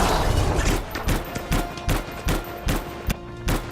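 Repeated bursts of gunfire at a titan in Anthem, sharp shots in quick irregular clusters with a few heavier thuds, loud and close with no talking.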